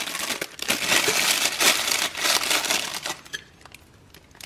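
Packaging from frozen Wow Bao cheeseburger bao being torn open, loud close crinkling and crushing of plastic in dense bursts that taper into a few quieter rustles.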